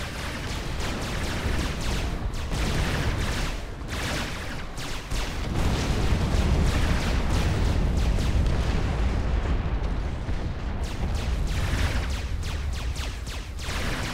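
A commander unit exploding in the strategy game Supreme Commander, loud sustained rumbling blasts and crackling debris washing over the battle, dense and continuous for several seconds.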